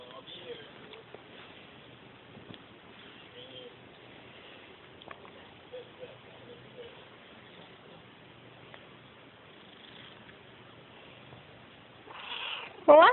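A pet cat meows softly and intermittently indoors over a long stretch, its faint calls mixed with a person talking to it, before a louder, closer sound near the end.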